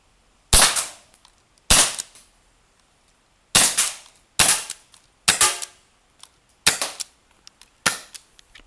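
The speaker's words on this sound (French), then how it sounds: "Et je tire sur les cibles." Airsoft P11 2-joule pistol firing at targets: seven sharp, loud cracks at uneven intervals, with quieter impacts and clicks trailing after some shots.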